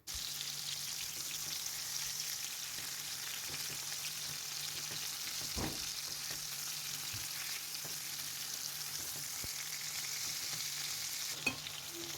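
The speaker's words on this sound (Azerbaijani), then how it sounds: "Doğranmış pomidorları da badımcanı pişirdiyim yağın içərisində 1-2 dəqiqə o üz bu üz qızardıram." Chopped tomatoes fry in oil left from cooking aubergine, a steady close hiss of sizzling with scattered pops and a few faint utensil taps, no voices.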